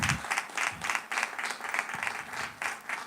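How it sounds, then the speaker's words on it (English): Audience applause at a summit event, steady clapping from a crowd sustained throughout, moderately loud and continuous with no speech over it. "Please keep clapping."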